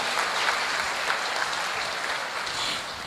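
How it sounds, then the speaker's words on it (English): An audience applauds Prasad Master at a live life-sketch event, a dense, steady burst of many hands clapping together for a few seconds. "So one round of loud applause for Prasad Master."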